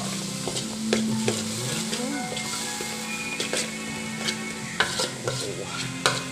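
Holy basil for pad kaphrao is stir-fried in a pan, a busy sizzle broken by sharp metallic scrapes and clanks of the spatula, close up, with a brief tonal whine near the start.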